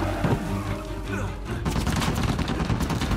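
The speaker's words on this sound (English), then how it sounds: "I did not mean to throw a grenade at myself" Grenade explosion in Uncharted 4, a sudden broad blast about halfway through that breaks into dense crackling, rumbling debris and gunfire-like bursts, following a stretch of tonal game music and effects.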